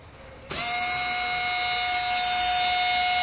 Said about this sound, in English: DC motor here. I would discharge them down